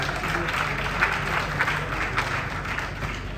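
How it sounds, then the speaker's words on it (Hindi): An audience at a Hindi poetry gathering (kavi sammelan) breaks into applause, a steady wash of many hands clapping at moderate volume, sustained for a few seconds with no speech over it. "एक बार ताली बजा दीजिए"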